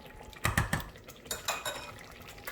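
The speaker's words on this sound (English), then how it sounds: "You come back again, stir it a little bit by little" A spoon scrapes and clinks against a pot while jollof rice is stirred, a few sharp metallic knocks followed by softer scraping, close and clear with no talk.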